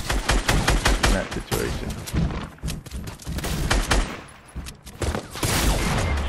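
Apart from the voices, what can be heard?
gunfire in Fortnite video game fight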